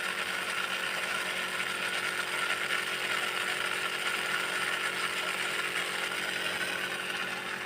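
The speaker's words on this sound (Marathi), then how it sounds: "सकाळी सकाळी पाईपलाईन मोटर लावली आणि चालू केला ड्रेसिंगद्वारे खत." An electric pipeline water pump motor runs in a farm field on a cold morning, giving a steady, even mechanical whir and hum that stays unchanged from start to end with no talking.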